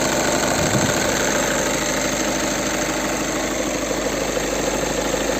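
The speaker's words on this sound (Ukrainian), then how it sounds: "Двигун працює ідеально рівно" The 2.0 TDI 140 hp diesel engine of a 2010-11 VW Touran idles steadily and evenly, a constant low rumble with a faint knocking texture, close by and uninterrupted.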